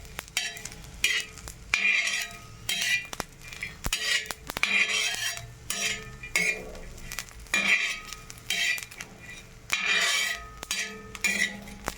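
Spice masala being dry-roasted in a pan for mutton curry, with a spoon repeatedly scraping and clinking against the metal in irregular bursts over a soft sizzle, close and fairly loud, no talking.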